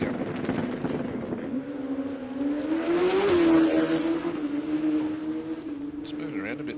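A drag racing car makes a qualifying run at a Queensland drag racing championship. Its engine note drones and rises to a peak before easing off, heard from a distance under an ongoing commentary voice.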